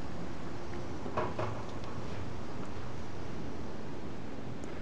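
Steady wind roars and buffets a nearby microphone beside a military Esbit-style solid fuel stove boiling water, a constant broad rushing with a few faint clicks near the start.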